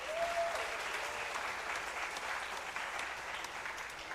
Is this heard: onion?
no